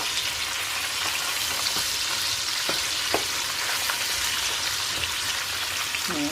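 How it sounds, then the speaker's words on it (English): Onions fry and burn in a pan, giving a steady, close, loud sizzle with scattered pops and crackles that runs without a break throughout. "So now I'm going to remove all the onions and stuff as they're burning."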